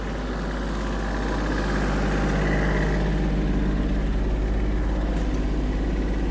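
Kubota GL-320 Japanese mini tractor with its engine running steadily, a continuous close, loud idle-like rumble with a side-mounted gearbox, holding a fairly even level throughout with no talking.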